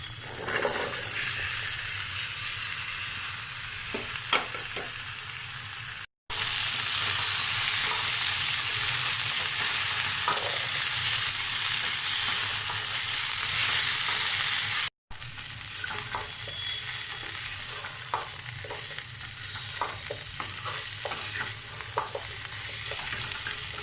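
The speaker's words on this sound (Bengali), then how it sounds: "এটা আমি আরও 2 মিনিট পর্যন্ত একটু নেড়ে চেড়ে নিয়েছি" Potatoes with spices and boiled chickpeas frying and being stirred in a pan: a continuous loud sizzle with scattered spoon scrapes and taps, briefly cut twice, no talking.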